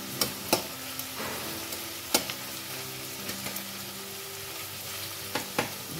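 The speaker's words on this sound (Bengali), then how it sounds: "পেঁয়াজটা একটু ভাজা হোক।" Onions fry in a pan for a Bengali-style chicken and potato curry, giving a steady close sizzle broken by sharp spatula clicks against the pan scattered throughout.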